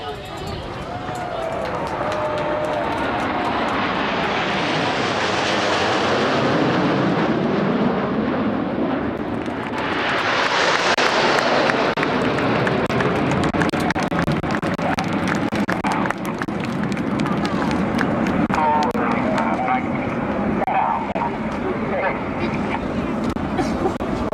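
Jet aircraft, Red Arrows Hawks flying with an Alenia Aermacchi M-346 trainer in a close formation display, give a loud, sustained roar that swells twice as they pass overhead and stays continuous throughout.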